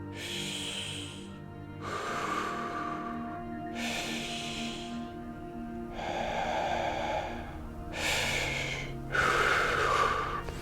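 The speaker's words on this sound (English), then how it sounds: "breathe with the belly" Slow, deep breaths drawn in and pushed out, each one long and audible, repeating in a steady rhythm close to the listener with no talking.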